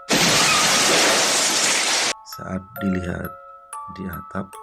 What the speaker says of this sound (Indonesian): Suara seperti genteng pecah.